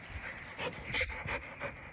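A dog pants rapidly and softly nearby, quick breathy huffs in a steady rhythm.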